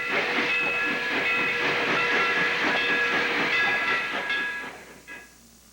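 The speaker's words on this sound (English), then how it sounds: "One of the Virginia Blue Ridge's 4 hefty 6-wheel switchers is working at the junction" A six-wheel steam switcher locomotive works close by at a railway junction with loud hissing steam and rhythmic chuffing, then the sound drops away near the end.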